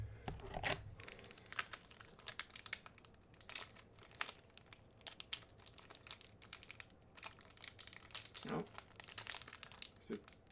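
Plastic wrapper of a trading card booster pack crinkling and crumpling as it is pried open, close and continuous with irregular bursts, with voices talking in the background.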